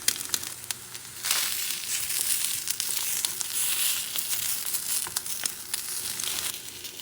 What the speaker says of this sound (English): And also frying an egg or two.